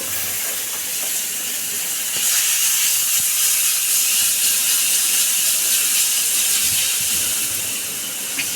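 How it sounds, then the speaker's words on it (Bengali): A paste of ginger, tomato and cumin hits hot oil in a pan and sizzles with a bright, continuous hiss. The hiss swells louder after a moment and stays steady, with faint clinks and no talking. "এবার আমি মশলাটা দিয়ে দিচ্ছি।"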